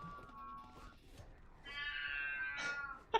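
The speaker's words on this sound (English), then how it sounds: "Can you hear my cat in the background?" A cat meows in the background, giving a few faint, drawn-out tonal cries over a quiet room.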